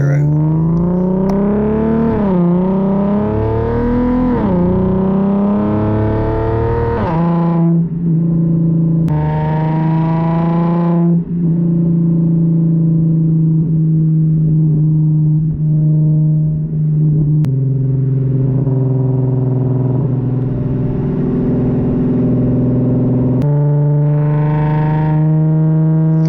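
A Camaro engine with new test pipes revs up and down with a loud, rumbling exhaust, then settles into a deep idle before revving again, close and powerful.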